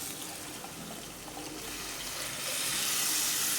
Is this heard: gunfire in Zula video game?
no